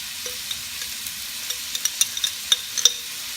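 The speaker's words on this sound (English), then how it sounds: "Let's give it a stir." Shrimp paste being stirred in a hot frying pan with minced garlic, giving a steady soft sizzle with scattered scraping clicks from the utensil that grow a little busier toward the end, close and with no talking.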